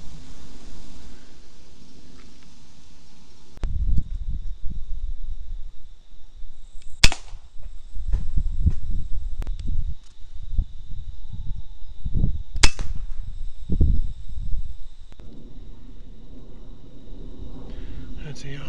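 An FX Impact air rifle fires during rat shooting, a few sharp isolated cracks spaced seconds apart, with people talking quietly in between the shots.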